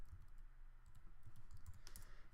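Soft, irregular keystrokes on a computer keyboard as an Active Directory password is typed into a login portal, close and quiet, with no voices.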